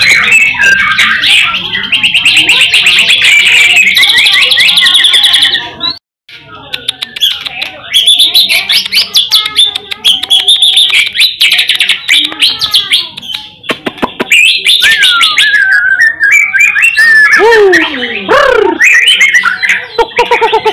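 A young white-rumped shama sings loud, varied whistles and chattering phrases close by, with a brief pause midway and sharp descending notes near the end.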